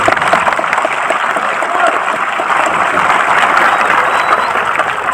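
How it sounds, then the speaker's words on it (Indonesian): Loud, sustained applause from a large crowd at a mosque religious gathering, dense clapping that holds steady throughout without any voices standing out. "ayo tepuk tangan dulu"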